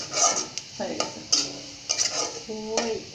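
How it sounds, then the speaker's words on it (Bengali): Cumin seeds stirred lightly in a pan for a koi fish curry, giving soft scraping strokes and faint crackle in short bursts, with brief tonal clinks of the spoon against the pan. "এক স্পুন জিরা এটা এখন আমি তুলে ফেলবো শুধু হালকা নাড়া দিয়ে"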